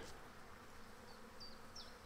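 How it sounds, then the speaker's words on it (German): Honeybee foragers returning from rapeseed fields and buzzing around a Langstroth hive, a faint steady drone with a few individual bees flying close past. "wir sehen hier ganz viele Flugbienen schon, die kommen vom Raps zurück"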